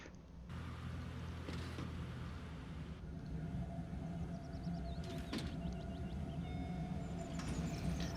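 Subway train in The Sims game, a low steady rumble with soft mechanical whooshes, chimes and brief door-like bursts layered over it, quiet and continuous without any speech.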